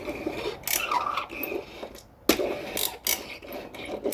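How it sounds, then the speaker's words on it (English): A Corgi Juniors Growler toy car is pushed along, its internal cog and spring giving irregular scraping, ratcheting bursts, quiet and close, with brief pauses between pushes. "It's got this little cog thing and a spring to make a noise as you push it along,"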